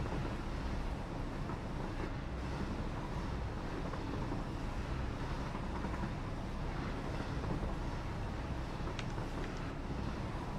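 A fast train rolling along its tracks in the video game Satisfactory: a continuous, even rumble with a windy hiss, steady from start to finish.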